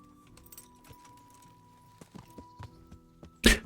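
Horse hooves clip-clop in Kingdom Come: Deliverance, a few scattered, light steps at a slow pace, ending in a sharper loud clatter.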